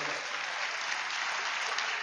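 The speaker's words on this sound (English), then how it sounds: "let's give our students another round of applause for a job well done" Sustained applause from an audience at a school system State of the System event, honoring students; dense, steady clapping fills the whole stretch at moderate level with no pauses.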